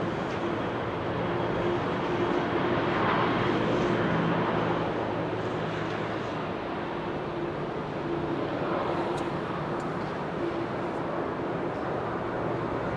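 An Airbus A330 airliner roars steadily at Amsterdam Schiphol Airport in windy, showery weather, a broad sustained jet rumble with no talking over it.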